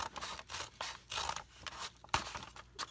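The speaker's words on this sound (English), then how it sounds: "I just cut right as straight as I could" Scissors cut straight across the top of a paper bag, a run of crisp close snips and crunchy paper slicing repeated in steady strokes, with one sharper louder cut near the end.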